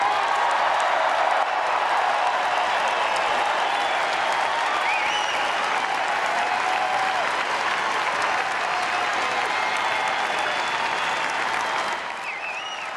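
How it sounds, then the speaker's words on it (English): A political convention crowd applauds after Governor Christie's keynote speech, loud sustained clapping with scattered cheers running for about twelve seconds before easing slightly at the end. "Governor Christie now receiving a rather substantial amount of applause"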